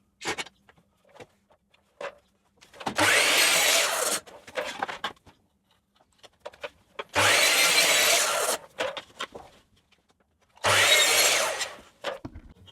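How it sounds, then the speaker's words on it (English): A miter saw cuts wood pieces to size against a stop block, three loud bursts of blade whine and cutting, each about a second and a half long, separated by quieter clunks and handling knocks. "let's head over to the miter saw and cut this to size"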